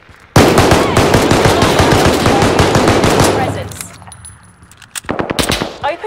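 Dense rapid-fire bursts from a video game shooter blaze continuously for about three seconds, then trail off into quieter clatter before a final short volley of sharp shots.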